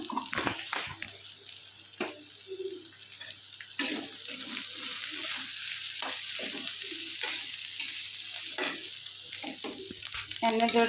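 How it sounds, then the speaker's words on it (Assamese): Steady sizzling of chillies frying in a pan with cumin and coriander powder for pickle, with occasional scraping and stirring clatter; a voice briefly speaks near the start. "জুইটো মিডিয়াম ফ্লেমত দি পেলাই প্ৰায় 10-15 মিনিটমান ভাজি ল'ব"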